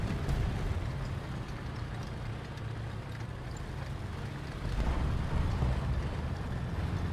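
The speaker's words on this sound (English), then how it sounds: "From that engine sound, I'm guessing it's something... Maybe Russian?" A vehicle engine in the combat game War Thunder gives a low, rough rumbling drone that swells louder toward the end.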